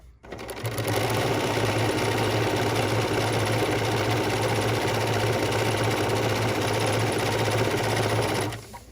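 A sewing machine stitches steadily down the middle of a serpentine stitch on a Christmas ornament, a loud, close, fast mechanical whir that starts abruptly, runs unbroken for about eight seconds and stops.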